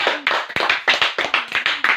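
Classroom clapping by children, a quick run of about nine distinct, fairly close hand claps in an even, slightly uneven rhythm, with no talking.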